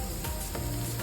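Minced garlic and curry powder sauté in an Instant Pot as a dense, continuous sizzle, loud and close, with faint stirring scrapes and no voices.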